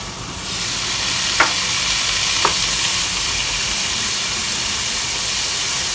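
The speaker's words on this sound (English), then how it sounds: "I can add some water to the frying pan to cook the green bean as well" Green beans sizzling and hissing in a hot frying pan, with two brief scraping stirs early on over a constant frying crackle.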